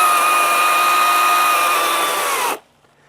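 EGO 56V battery chainsaw with a 20-inch bar cutting through a 12-inch diameter log, producing a steady, loud, high electric whine that holds evenly for about two and a half seconds before cutting off abruptly into near silence.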